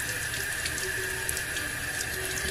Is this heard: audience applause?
no